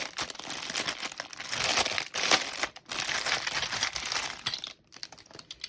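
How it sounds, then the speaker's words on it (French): Plastic packaging from a Temu nail order crinkles and rustles continuously up close, with brief pauses between bursts of handling. "Désolée pour les bruits de plastique."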